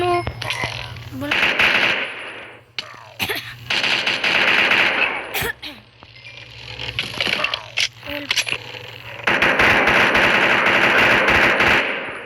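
Rapid automatic gunfire from modded weapons in Minecraft with the TACZ gun mod, coming in long loud bursts with short pauses between, while someone talks over parts of it.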